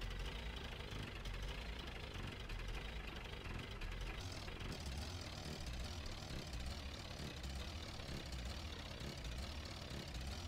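A loud car engine in the driving game Jalopy runs continuously as a rough, knocking rumble. It stays steady and close throughout, with no talking over it.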